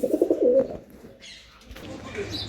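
A domestic pigeon of the Andhra breed coos several times close by in quick pulses, then falls quiet; soft rustling and faint background noise follow.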